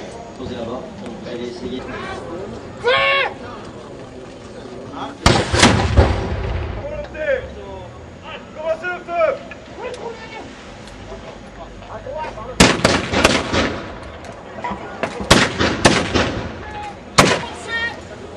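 Sharp, loud musket shots crack out in scattered volleys, echoing outdoors at a historical reenactment, ranks firing in turn, with a crowd murmuring and voices talking between the bursts.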